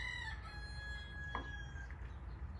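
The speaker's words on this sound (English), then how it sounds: "Roosters like to just crow all day long here in Texas." A rooster crows somewhere in Texas, faint and distant over a low rumbling background, a single drawn-out call.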